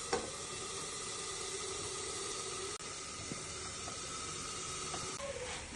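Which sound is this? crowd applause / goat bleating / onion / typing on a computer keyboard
onion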